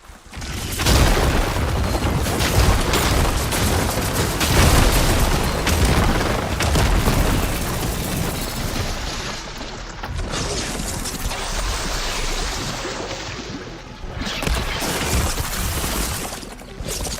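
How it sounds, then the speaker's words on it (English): A ballista in Horizon Forbidden West fires heavy shots amid continuous loud booming, crashing combat noise, sustained and dense with no clear gaps between impacts. "Few shots from that ballista."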